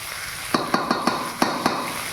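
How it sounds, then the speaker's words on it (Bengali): Cauliflower, carrot and beans fry in a pan, a steady sizzle underneath repeated close clinks and scrapes of a utensil stirring at an uneven rhythm. "আর ফুলকপিটা দিয়ে দেবো, গাজরটা দিয়ে দেবো, বিনসটাও দিয়ে দেবো।"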